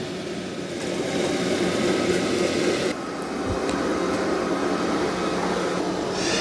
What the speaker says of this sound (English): When it's vacuuming and mopping, about 65 dB.